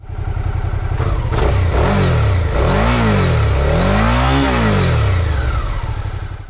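A 2017 Suzuki V-Strom DL650 XT motorcycle revs repeatedly through its stock exhaust, loud exhaust rising and falling in pitch in several throttle blips, close by and continuous.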